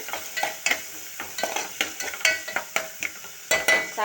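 Onions frying in a pan with salt, a bright sizzle broken by frequent quick scraping stirs of a spoon against the pan, close and fairly loud with no talk.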